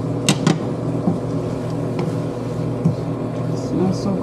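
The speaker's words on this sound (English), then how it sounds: "I'll just stop the microwave." A kitchen microwave oven running with a steady low electric hum, broken by a few short clicks and knocks as it is stopped, fairly close and with no clear talk.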